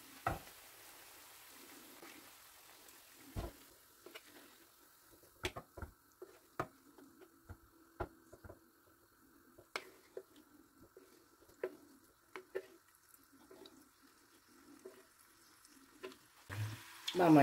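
Sliced potatoes sizzle softly in olive oil in a pan, with scattered clicks and scrapes of stirring and occasional sharper knocks against the pan, fairly quiet throughout.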